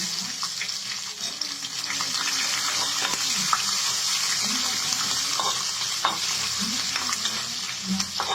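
Steady hiss of chopped green chillies sizzling and spattering in oil in a pan, continuous and close, with occasional stirring clinks and scrapes.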